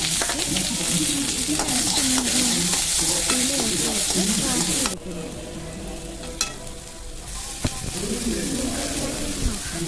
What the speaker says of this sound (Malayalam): കടുക് വറുത്ത് അതിലാദ്യം സവാള ഇട്ട്